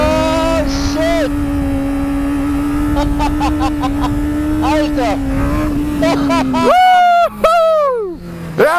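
Supersport motorcycle engine revving during a wheelie, a loud, rising and falling engine whine heard close, overlaid by excited voices talking and shouting.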